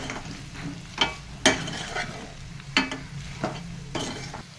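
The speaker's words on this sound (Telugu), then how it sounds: "మనం మాడిపోకుండా ఇలా కలుపుకోవాలి" Chicken pieces fry with chili powder in a pan, sizzling faintly while a spoon stirs them, giving several sharp scraping clinks spaced unevenly over a low frying hiss.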